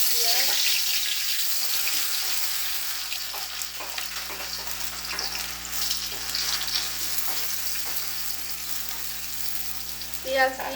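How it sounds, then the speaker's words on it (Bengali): Food drops into hot oil in a home kitchen and sets off a continuous close sizzle and crackle. A louder spattering burst rises near the end. "তেল গরম হয়ে গেছে এর ভিতরে আমি দিয়ে দেবো"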